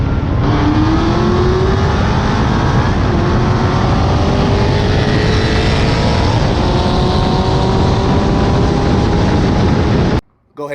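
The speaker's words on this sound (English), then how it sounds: "He has a heads cam Z06 on nitrous, standalone fuel system, C16. We got to run it." A nitrous-fed heads-cam Corvette Z06 with standalone fuel system racing, a loud sustained engine roar with rising pitch through gear changes, close and continuous before cutting off abruptly near the end.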